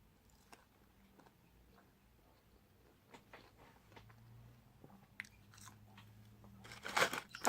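Crunchy Happy Meal fries dipped in barbecue sauce are eaten close to the mic, giving scattered soft bites and chewing crunches that grow louder and denser toward the end, over a quiet room.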